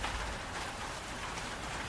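Heavy rain falls steadily as a dense, even hiss of drops on the surfaces of a mountain hiking trail in thick fog, with no pauses or voices.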